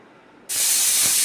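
After a brief quiet moment, a loud, sharp hiss of steam bursts out suddenly from a pressure cooker cooking beef and continues steadily at full strength.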